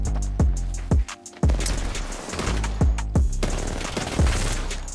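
Gunfire in a Predator video game, loud and near: a string of separate heavy shots spaced roughly half a second apart, each with a sharp thump and ringing tail, layered over a busy background of further firing.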